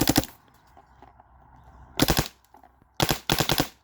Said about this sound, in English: It's pretty fun with the semi or full auto, because all I have to do is keep my finger on the trigger